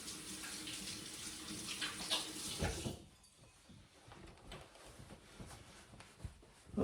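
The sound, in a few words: tap water running while washing hands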